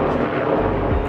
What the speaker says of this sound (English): there's a chopper overhead right now